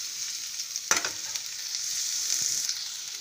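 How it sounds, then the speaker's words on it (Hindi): Beans are stir-fried in a pan with very little oil, producing a steady, close sizzle. A sharp scrape of the spatula comes near the start and lighter stirring follows, with no voices. "ये बीन्स डाल दिया मैंने, इसको हम चला लेते हैं ताकि इसमें लगे ना, क्योंकि तेल हमने बहुत कम यूज किया है।"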